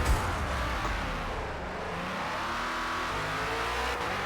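A Ford Falcon FG X racing in Forza Motorsport at Grand Oak, its engine held steadily at the rev limit in a loud, continuous roar that barely wavers, without speech.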